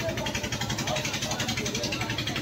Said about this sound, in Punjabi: ਜਨਰੇਟਰ ਬੜਾ ਸ਼ੋਰ ਮਚਾਈ ਜਾਂਦਾ